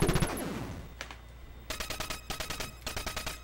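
Rapid bursts of 8-bit gunfire from Contra on the Famicom, a string of regular sharp shots repeating in quick rhythm after a few scattered blasts, moderately loud with no voices.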